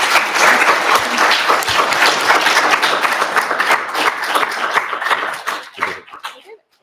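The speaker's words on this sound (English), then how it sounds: "please give our panel a round of applause" An audience applauds a panel with loud, dense clapping that holds steady for several seconds before thinning out and tapering to a few last scattered claps.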